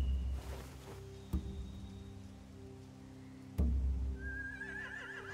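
A horse whinnies near the end in The Walking Dead video game, a wavering high neigh over a quiet background with a low hum and a couple of sharp thuds.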